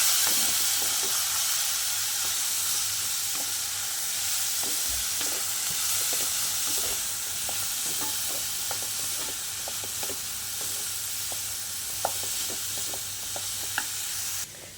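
Turmeric stirred into fried curry leaves and coriander in a pan on a switched-off stove, with a steady sizzle and hiss under soft scraping stirs, no voices.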